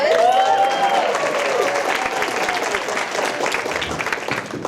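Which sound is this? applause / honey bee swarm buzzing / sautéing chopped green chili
applause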